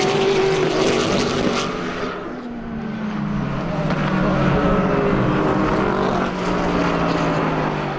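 Race cars at speed on the Sebring circuit on a hot race day, a loud continuous engine roar with rising and falling pitch as cars pass, no voices.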